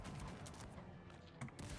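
Rapid cannon fire in a one-versus-two strategy video game battle, a dense continuous barrage of overlapping booms and cracks filling the whole stretch, loud and close with no pauses.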